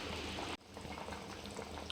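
Nellore-style fish curry simmering hard in a pot, oil risen to the surface, giving a close, continuous bubbling boil with a short dropout early on before the steady burble resumes.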